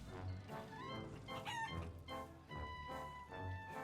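A chicken clucks and squawks in a Wallace & Gromit video game at a fair, several close, fairly loud bursts of fowl calls spread over a few seconds with some background music.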